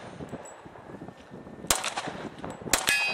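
Two sharp shots from a Glock 23C compensated pistol ring out against steel targets during a night run, with a clear metallic ping after each, close and loud over faint background noise.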